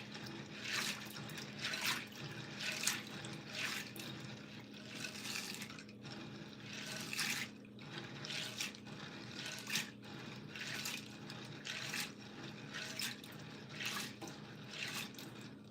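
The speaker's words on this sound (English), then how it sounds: "I have the beans down here in like this Pyrex container, and I'm just kind of like gyrating them" Beans being swirled in water inside a Pyrex glass container, a soft, steady sloshing with regular gentle splashes and drips repeating about once a second, quiet and close.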